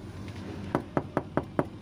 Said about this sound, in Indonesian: Roni pun mengetuk-ketuk gerbangnya beberapa kali.